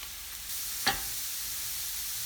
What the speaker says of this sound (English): So this has been frying for a while.